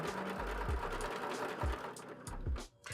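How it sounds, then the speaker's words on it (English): Sewing machine stitching a strap attachment onto a backpack, running in short bursts with a steady mechanical whir and repeated needle thumps, close and loud with no voices. "I'm not going to sew this on by hand, I'm going to do it by the machine"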